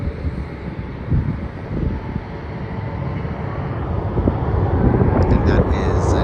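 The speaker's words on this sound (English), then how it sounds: "And that is an Airbus A320 going to Ayers Rock." An Airbus A320 airliner departing on a flight to Ayers Rock (Uluru) gives a broad, steady roar that swells gradually louder, heard from a distance outdoors with wind buffeting the microphone.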